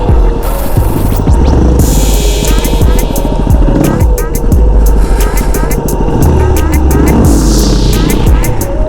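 A Yamaha WR250R dual-sport motorcycle engine revs hard and repeatedly during wheelie practice, loud and close, with rising and falling throttle bursts and gear changes throughout.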